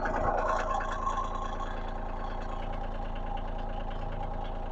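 A tractor engine idles steadily at close range, a continuous mid-pitched rumble with a slight knocking throb, holding an even level throughout.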